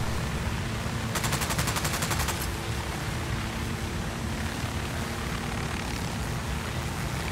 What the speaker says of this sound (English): I have damaged my helicopter because the durability is pretty shabby